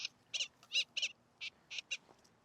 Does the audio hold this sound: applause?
no